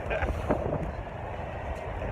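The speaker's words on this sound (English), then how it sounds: "This wind is cold." Cold wind blows outdoors, a steady low roar buffeting the microphone throughout, with faint talk in the background.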